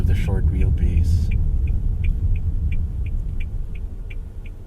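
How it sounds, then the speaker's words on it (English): Toyota Urban Cruiser GLX BEV, a 2026 electric small crossover, drives with a steady low road rumble and motor hum running throughout, with faint repeated high ticks and brief talk at the start. "There's a nice electric whir to the motors, so it rides like a small crossover."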